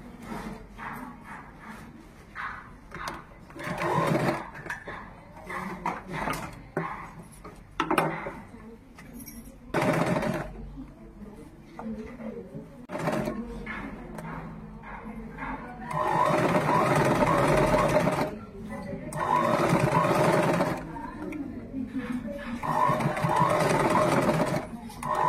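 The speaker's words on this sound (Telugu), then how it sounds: "దీన్ని నార్మల్గా ఇలా పెట్టి కుట్టేసుకోవాలి" A sewing machine stitches a uniform shirt in bursts of rapid mechanical whirring and clatter, separated by pauses and light handling noises, with the longest runs near the end.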